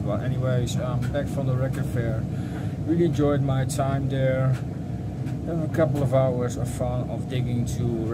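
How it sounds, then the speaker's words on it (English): A household clothes dryer spins with a steady, low whirring hum in the background, continuous beneath someone talking close up throughout. "sorry for the noise of the dryer. It's spinning in the background."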